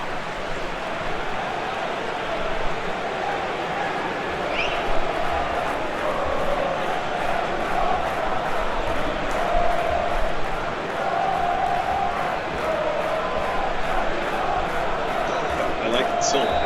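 Home crowd at Paraguay's National Stadium in Asunción during a World Cup qualifier against Venezuela, a dense, steady roar of chanting and cheering that swells now and then, heard throughout under a commentator's voice.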